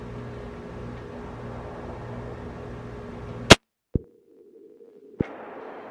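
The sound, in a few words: gunshots from firing gun show reload ammunition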